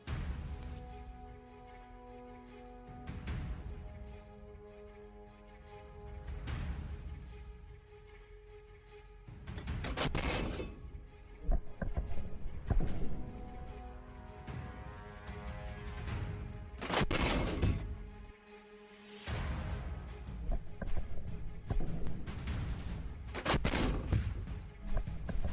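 A C-60 57mm anti-aircraft cannon fires fragmentation shells at a tank outdoors, sounding as loud, heavy booming shots in a ragged series with reverberant rumble between bursts.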